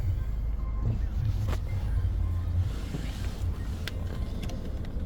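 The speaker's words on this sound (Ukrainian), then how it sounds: "Запускаємо двигун" A steady low engine rumble runs throughout, continuous and fairly close, with a few brief clicks and faint background voices.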